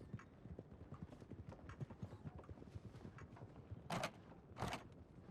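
Horse hooves clip-clopping in the western video game Red Dead Redemption 2, a steady walking rhythm of soft, close hoofbeats heard alone, with two louder knocks near the end.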